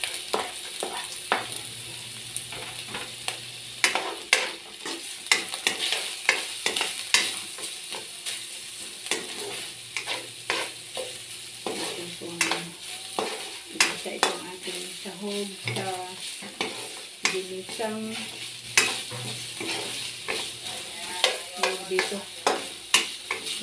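Chopped onion and garlic frying in a pan in a home kitchen, a steady sizzle under repeated close stirring and scraping strokes, with a low hum in the background and no talk.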